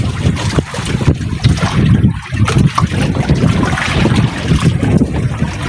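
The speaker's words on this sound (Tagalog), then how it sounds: "Grabing lakas ng ulan sa hangin." Strong wind buffets the microphone aboard a small fishing boat at sea during a storm, with a rain and choppy-water wash under a steady, loud roar; no one speaks.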